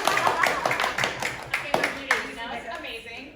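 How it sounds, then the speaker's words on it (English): Light clapping, like a small baby clap, sounds in a studio during a Black Love edition of a talk show: a few soft, scattered hand claps early on, with voices and chatter around them. "What's this baby clap?"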